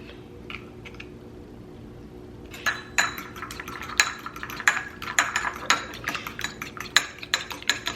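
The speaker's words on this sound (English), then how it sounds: "we are going to make an egg wash for the top of the crust" Egg wash whisked in a bowl for a beef pot pie crust, quiet at first, then a rapid run of close, sharp clinks and taps as the utensil beats against the bowl.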